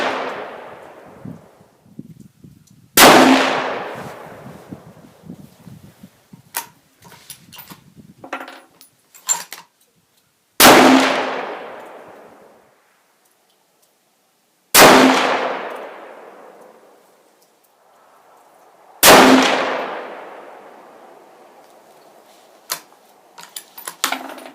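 A Ruger American rifle in .243 Win fires hand-loaded rounds. Four loud, isolated shots are spaced several seconds apart, each with a long echoing decay, and small handling clicks fall between them.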